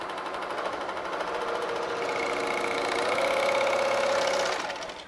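A sewing machine stitches random lines across quilt fabric, giving a steady, close mechanical whir with a fast needle rhythm that holds constant for several seconds before easing off at the end.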